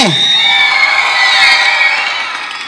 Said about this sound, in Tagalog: isang malakas na sigawan ulit dyan para sa dalawang mandirigma na to